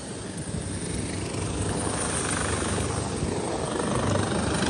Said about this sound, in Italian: aspettiamo l'elicottero che ci venga a prendere.